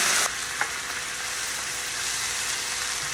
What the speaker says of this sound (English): I'm gonna let that simmer a bit until it starts evaporating some of that